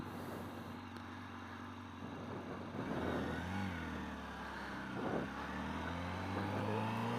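A 2023 Honda Fireblade SP 1000RR-R motorcycle pulls away from a stop with a low, steady engine drone that gradually rises as it rolls off.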